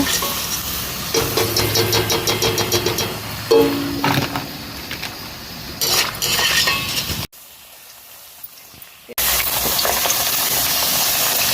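Potato chips frying in hot oil in a wok make a loud, dense sizzle with occasional clinks of a utensil, cut off briefly by a short near-silent gap before the hissing returns.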